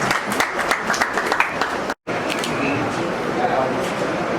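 Audience at an award ceremony applauding: dense, loud clapping from many hands, briefly cutting out midway, then continuing steadily.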